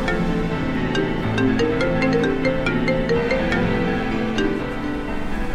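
A telephone rings with a repeating electronic melodic tone at a steady pace, fairly loud and continuous with no talking over it, inside a family home.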